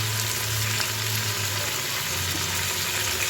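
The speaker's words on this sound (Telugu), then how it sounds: "చూడండి, చికెన్ వేస్తున్నాను" Chicken pieces fry with golden-browned onions in a pot for chicken biryani, giving a dense, continuous loud sizzle with a low rumbling undertone throughout.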